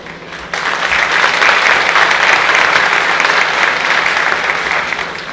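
Sustained audience applause at a high school awards ceremony for student achievement in visual arts, a steady wash of clapping from a large crowd that swells after a brief start and holds evenly for several seconds with no voices over it.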